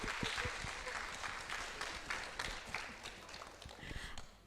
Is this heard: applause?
yes